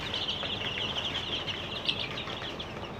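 A crowd of seven-day-old farm chicks cheeps in a dense, continuous chorus of high, rapid peeps. It stays steady and close throughout, with no talking.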